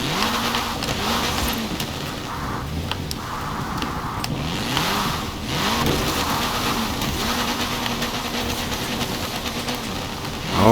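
A 1972 Reliant Supervan drifting in a video game, its engine droning loud and close with repeated rising and falling revs as it slides, ending in a final surge.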